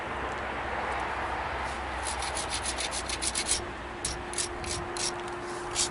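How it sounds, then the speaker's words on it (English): A Mookaite flint-knapped point has its ears ground with a close, steady abrasive rasping and rubbing, with a burst of short quick scrapes in the middle. "I'm even going to grind in the ears."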